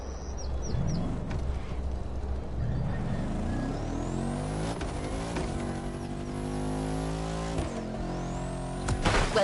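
Audi R8 LMS GT2 race car engine in the racing game The Crew Motorfest, a loud, close engine note rising through successive gear pulls with sharp shift changes and a harsh rev climb, steady throughout with no talk.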